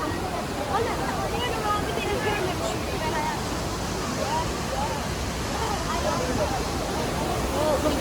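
Düden Waterfall in Antalya roars as a dense, continuous rush of falling water near its source side, with voices faintly mixed into the steady wash.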